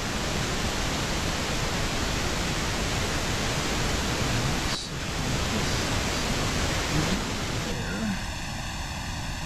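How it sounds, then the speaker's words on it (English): Pink noise with comb filtering from two summed subgroups, a constant broadband rushing hiss with a brief dip midway and a tonal, striped coloring toward the end. "so you can hear the comb filtering now"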